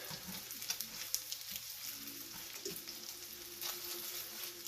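Homemade meatballs sizzle steadily in a frying pan after being turned over, a dense, continuous frying hiss close by, with small pops and occasional scraping as they are moved.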